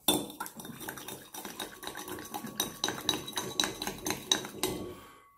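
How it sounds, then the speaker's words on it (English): Metal utensils clink and scrape steadily in a bowl as sugar is mixed into a marinade for Szechuan kung pao chicken, a busy, close run of taps and stirring strokes. "mix it up"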